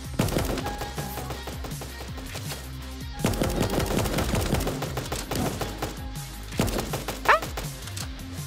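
Rapid gunfire from cartoon animal characters' guns in the battle royale game Super Animal Royale, a steady run of sharp shots over several seconds mixed with game music and effects.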